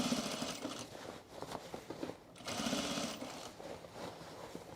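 A sewing machine stitches cargo shorts in a rapid mechanical whir, running in bursts with short pauses between, close and moderately quiet.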